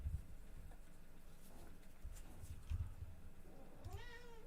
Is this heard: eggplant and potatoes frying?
no